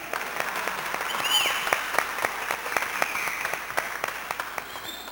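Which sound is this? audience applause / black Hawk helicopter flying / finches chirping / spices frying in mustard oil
audience applause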